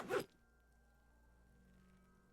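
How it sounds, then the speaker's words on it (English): Zipper pulled down in the game Disco Elysium: one short, close, bright zip at the start, then near silence with a faint low hum. "Pulls down the zipper."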